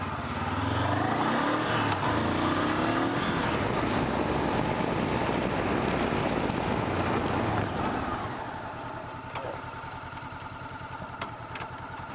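A motorcycle ridden through the braking exercise of an A2 licence test, its engine droning loudly and steadily for about eight seconds before easing back to a quieter, lower running sound.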